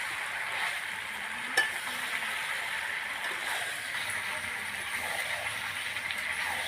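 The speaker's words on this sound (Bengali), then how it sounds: "কষাতে কষাতে সাইড থেকে তেল বেরিয়ে যাচ্ছে, আরও কিছু সময় আমি কষাবো" Chicken curry made with country rooster sizzles quietly in oil while it is stirred in a pot with fried potatoes added, giving a soft continuous frying hiss with a brief clatter near the start.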